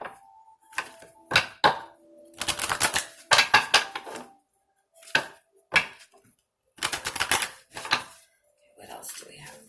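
Oracle cards are handled and shuffled in bursts of crisp, close riffling and tapping with short pauses between, while a voice talks in the gaps.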